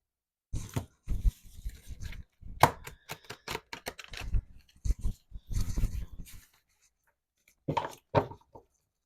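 Crisp rapid slapping and riffling of stiff cards in short bursts, pausing briefly before a final quick flurry.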